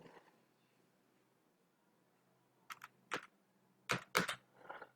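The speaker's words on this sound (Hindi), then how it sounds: "तो और एक लाइन के लिए हम ऑल्ट के साथ एंटर की को प्रेस करना पड़ता है।" Computer keys are pressed in a quiet room while typing in MS Excel, giving a few sharp, close clicks in short clusters with near silence between them.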